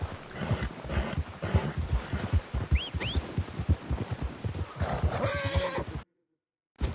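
A horse whinnies in Red Dead Redemption 2 over a busy rhythmic background of thumps and hoofbeats, the whinny rising briefly midway, then the sound drops to silence near the end.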